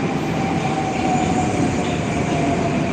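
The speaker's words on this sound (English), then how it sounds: "There's your train." Moscow metro train arriving in a station, with a steady loud rumble of rolling carriages and a faint high wheel whine throughout.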